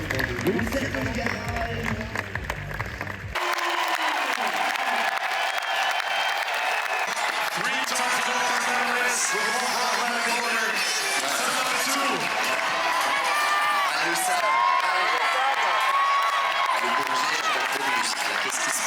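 A crowd watching Olympic climbing at Paris 2024 breaks into sustained applause and cheering for the route setters, a loud, steady wash of clapping and shouts that runs on without letup, with scattered whistles and voices.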